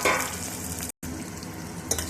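Onions and green chillies frying with cumin in hot oil, a dense steady sizzle with a brief cut in the middle, close and without talk.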